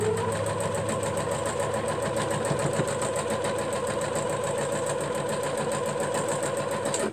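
Sewing machine stitching quilt pieces for a star quilt, running in a fast, steady mechanical patter at close range that halts abruptly at the end, with no voices.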